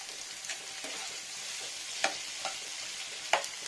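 Small whole eggs frying in a pan, a steady broadband sizzle throughout with a few sharper pops and spatula scrapes standing out near the end; no talking.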